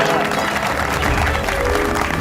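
Steady applause and crowd noise at a comedy-show gathering, dense continuous clapping throughout at a fairly loud, even level with some talk mixed in.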